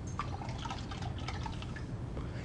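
Liquid yeast pours from a test tube into a beer fermenter, giving a soft, steady trickle and light dripping close by over a low background hum.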